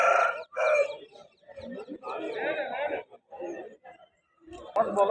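Roosters and chicks at a Vijayawada rooster market give close clucks and calls that mix with someone talking over them.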